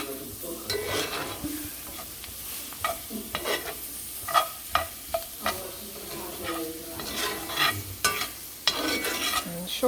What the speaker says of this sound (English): Give these a toss. Cook them down a little.